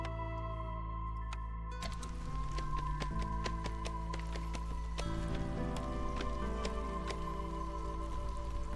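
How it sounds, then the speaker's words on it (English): Drizzle falls in the video game Against the Storm as a soft patter of raindrops heard through a continuous bed of game music and interface tones, steady throughout. "The power of drizzle."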